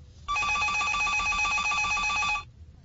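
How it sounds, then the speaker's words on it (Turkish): A household telephone bell rings in a single continuous burst of about two seconds, a bright metallic trill that stops abruptly, heard up close in a quiet room. "Bu sefer de telefon çalıyor."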